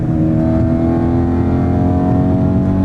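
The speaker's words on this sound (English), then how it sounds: "This motor's singing. It just revs out. It just goes and goes and goes." A BMW M3 engine revs high and hard, a loud sustained throaty drone with strong harmonics, held steady and close.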